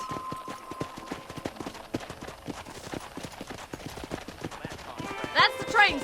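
Horse hooves clip-clop steadily along a path in the Western video game Red Dead Redemption, the rhythmic beats fairly close and moderate in volume, with a brief bright chime and voices in the scene near the end.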